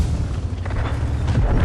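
A French Fury tank, the FV, blows up in a tank battle video game: a dense, rumbling boom that carries through the whole short stretch, loud and steady with no talking.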